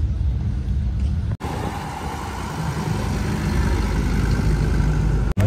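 A steady engine rumble of cars driving away close by at a car show in Bourges, broadband and continuous, with a couple of brief cuts in the sound.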